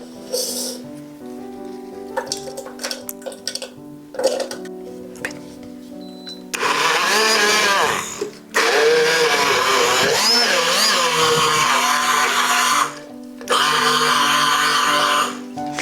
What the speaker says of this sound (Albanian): Do t'i kalojmë në blender dore.